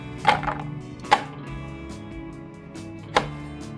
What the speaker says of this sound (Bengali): খুব পাতলা পাতলা করে এগুলোকে আমি কেটে নেব